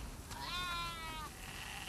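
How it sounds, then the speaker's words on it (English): A single wavering sheep bleat from the video game The Last of Us Part II, fairly clear and mid-distance, rising over a steady low background hum and then fading out. "We definitely have way too many sheep."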